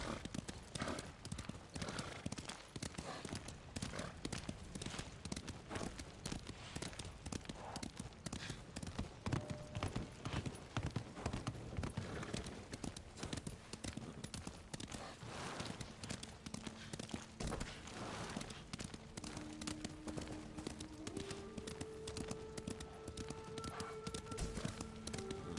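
Horses clip-clopping at a steady trot with occasional neighs in the video game Ghost of Tsushima, hooves loud and continuous throughout with music tones rising near the end.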